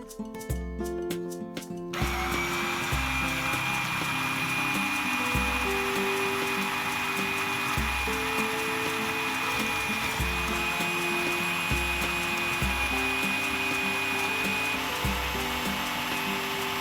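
Blender mixing coconut cream into a vegan fruit mousse made with aquafaba: a steady loud whirring motor that runs continuously after a brief start, with faint rhythmic thumping beneath it.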